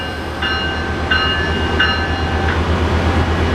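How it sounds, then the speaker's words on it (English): A train at Los Angeles Union Station rumbles steadily nearby with a low drone, and a few short, evenly spaced bell-like pings sound over it. "I've never seen this before, where you got two trains on the same track going in the opposite directions."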